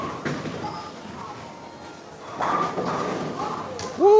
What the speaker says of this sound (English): Blower 8-pin for Eric Jones on 30